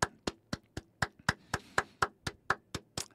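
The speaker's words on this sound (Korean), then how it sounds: "박수 한번 치고 시작할게요." A steady run of about thirteen sharp hand claps, evenly spaced and close by, with nothing else around them.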